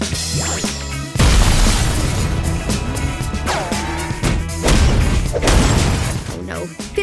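Cartoon explosions boom and crash as a villain destroys half a city, a dense run of loud bursts and shattering debris over several seconds, with a character's voice speaking over the chaos.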